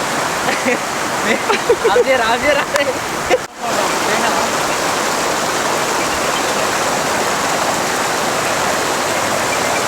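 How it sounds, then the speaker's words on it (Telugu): The Chitravati river in Anantapur, Andhra Pradesh, rushes strongly past a bridge in a loud, dense, continuous roar, with a voice speaking over it for the first few seconds before a brief dropout. "మనకి ఇక్కడ చిత్రావతి రివర్ ఎంత బాగా పాడుతుందో"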